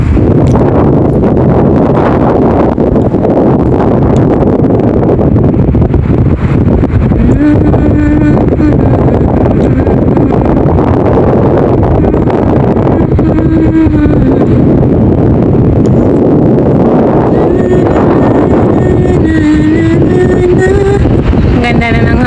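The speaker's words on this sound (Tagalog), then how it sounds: "Ang ganda na ng hangin niya" Wind buffets a microphone outdoors in a steady, loud, continuous rumble that fills the whole stretch, with faint tonal sounds drifting underneath.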